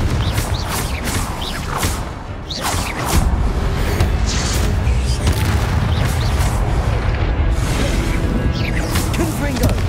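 Confringo explosion spells cast in Hogwarts Legacy on PS4 in a room below Hogwarts, producing heavy booming blasts with whooshes, crashes and rumbling debris, loud and continuous, while a voice is heard over the action.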